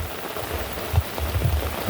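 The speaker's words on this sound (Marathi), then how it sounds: "बघा किती पाऊस वाढत चाललो बघा" Heavy rain pours steadily at Devgad harbour, a dense rushing hiss with occasional louder drops and splashes, no voices audible.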